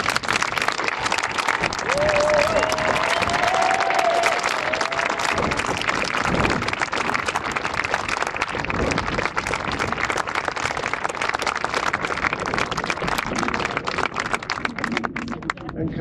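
An audience at a Guernsey Liberation Day singing event applauds visiting mayors, sustained loud hall-wide clapping with a voice heard briefly near the start.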